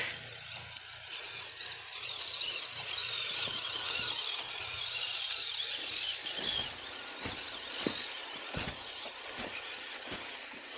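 A WPL RC truck drives over snow outdoors, producing a continuous hissing crunch with a high-pitched motor whine and occasional bumps and knocks, without talk.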